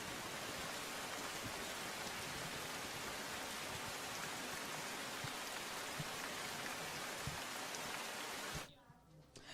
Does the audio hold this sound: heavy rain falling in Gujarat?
yes